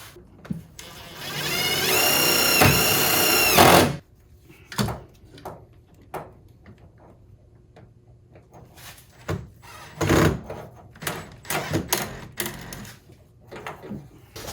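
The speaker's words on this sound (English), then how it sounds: "one-time use drill bits to just pop holes in so that I can mount this thing" A power drill whirs loudly for a few seconds with a rising, harmonic motor whine, drilling mounting holes on a 1986 Ford Mustang Fox Body, then stops, followed by scattered clicks and handling knocks.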